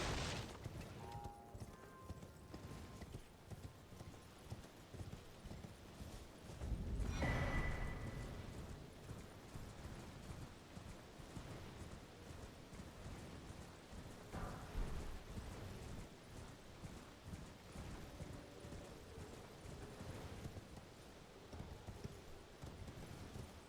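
Steady, rapid clip-clop of a horse's hooves galloping in a video game carries on throughout at low volume, with a couple of heavier booming impacts midway.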